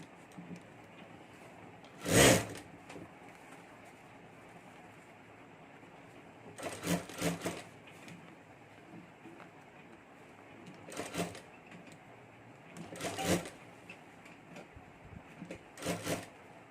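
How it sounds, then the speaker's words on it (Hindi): A sewing machine stitching the lining of a handmade clutch purse runs in short separate bursts, five loud whirring runs with quiet pauses between them, close and free of talk. "यहाँ से हमें सिलाई शुरू कर देनी है"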